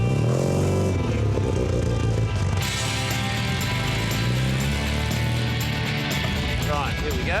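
A classic MG car being rebuilt sets off on a short drive, its engine a loud, steady, close rumble that shifts pitch as it pulls away, with a speaking voice heard over it.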